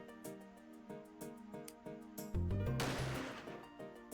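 A single loud gunshot from the video game Hotel Dusk: Room 215 bursts out over the game's looping background music and briefly swamps it.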